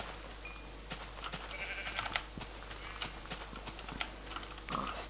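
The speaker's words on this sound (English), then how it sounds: "No, it was just sheep." Minecraft game sounds with a few faint, short sheep bleats over quiet clicks and taps, like keys being pressed, no talking.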